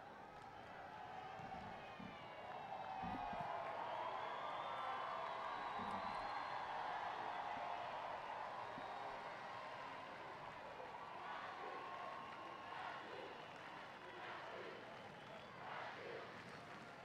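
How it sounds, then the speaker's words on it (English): A stadium crowd at a Paralympic 7-a-side football bronze medal match, Brazil versus the Netherlands in Rio, makes a diffuse, steady roar of cheering that stays fairly distant and muffled throughout. "Now the crowd, if any, were starting to worry, are really getting into it."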